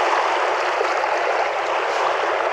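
Steady broadband wash of sea water splashing and rushing as a child plays in the shallows on a beach on Texel in the Netherlands, continuous and close with no voices.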